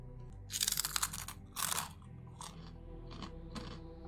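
Crunchy Korean crisps are bitten and chewed close to the mic, with two loud crackling bursts followed by softer, intermittent crunches.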